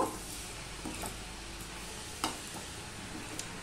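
Papaya curry with chickpeas is stirred in a pan, giving a soft continuous sizzle with a few sharp spoon scrapes and clicks against the pan, no talking.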